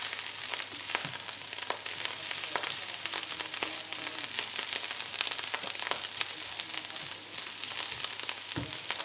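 Potatoes and ham fry in a pan for a Spanish scramble, giving a constant close hiss of hot oil punctuated by scattered scraping clicks as the mixture is turned.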